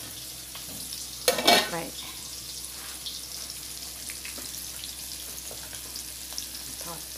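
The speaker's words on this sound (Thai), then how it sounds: "ทอดต่อค่ะพี่น้อง" Food frying in a pan in a rural home kitchen, a soft steady sizzle with a short burst of louder scraping or stirring early on; a voice speaks briefly.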